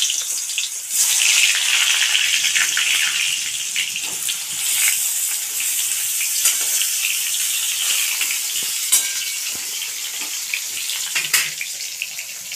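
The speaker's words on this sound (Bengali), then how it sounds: "পটলগুলো আমি একটু হালকা ভেজে নেব।" Pointed gourds (potol) fry in plenty of mustard oil, a steady loud bright sizzle with crackles and pops, close up and without talk.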